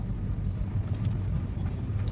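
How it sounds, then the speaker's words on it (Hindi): Steady rumble of road traffic with cars passing outside a D-Mart store on a busy Saturday, a continuous low drone of engines and tyres without clear individual horns. "यहाँ पे ये देखो कितना ट्रैफिक है गाड़ियों का।"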